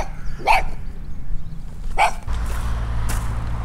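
A small dog barks sharply a few times close by, yappy bursts with pauses between, over a low steady hum of background noise.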